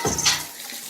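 Water runs in a shower, a short close-up burst of splashing spray that quickly settles to a softer wash, with no voices.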